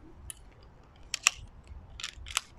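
Red frame poles of a Naturehike YL-05 or YL-06 camping chair being slotted together, giving a handful of sharp plastic and metal clicks and snaps in two clusters, close and fairly quiet.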